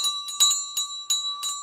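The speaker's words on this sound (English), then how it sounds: "We get a weak bell." Stock market closing bell rings in a series of sharp, bright strikes about every third of a second, each with a sustained metallic tone, clear and alone without talk.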